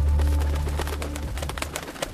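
A pair of birds coo in an animated fairy tale, a soft dove-like cooing under a steady low hum and scattered background noise, fairly close and moderately loud.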